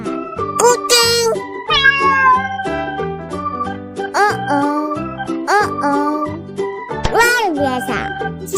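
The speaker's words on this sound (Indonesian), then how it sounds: "Kucing." Several cat meows with rising and falling pitch repeat over a steady background of children's learning music, each call sitting close and clear above the jingly tune.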